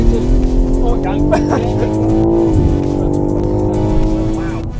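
A BTCC touring race car under full throttle keeps a loud, close engine drone with a steady harmonic whine that rises through the gears, while people talk over it.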